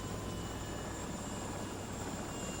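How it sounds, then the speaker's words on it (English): Apache helicopter gunships in the Gulf War, arriving in waves at a forward desert base to refuel, make a steady, unbroken rotor and engine drone that fills the whole stretch at a moderate distance. "Waves of Apaches arrived and refueled."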